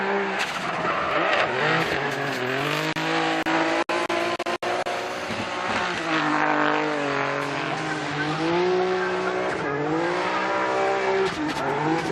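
Drift car on a competition run at Formula Drift Japan 2024, a loud engine howling and wavering through gear changes with screeching tires over about twelve seconds, a commentator talking over it.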